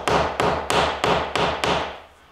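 A hammer taps staples into a wooden frame six times at an even pace, each blow sharp, close and loud with a short ring, then it goes quiet.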